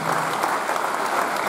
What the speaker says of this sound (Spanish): más emotivo tiene que ser el aplauso